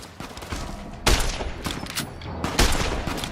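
Player's gun firing in Fallout: New Vegas during a fight with Powder Gangers near Primm, a few sharp, loud shots spaced irregularly over a busy background of other gunfire.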